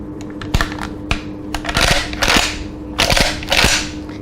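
Bolt of a British L1A1 SLR rifle worked by hand, a close series of sharp metallic clacks and sliding rasps in irregular bursts, with no talk.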